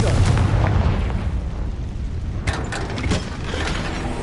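A Confringo blasting curse explodes in a Harry Potter game, opening with a loud low boom that decays into rumbling debris and crackles. A few sharper pops follow near the end.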